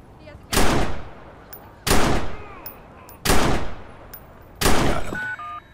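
Gunfire in the Watch Dogs video game: four loud, evenly spaced shots or short bursts, each decaying quickly into the background game ambience.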